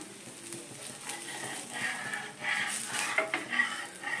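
Onion masala dosa cooking on an iron tawa, a soft sizzle close by with scraping and clinking from a metal spatula and utensils, growing busier toward the end, no voices.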